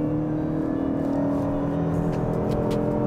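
A 2019 Lexus ES 300h hybrid with a CVT gives a steady, continuous engine drone under acceleration, heard from inside the cabin at a constant high pitch.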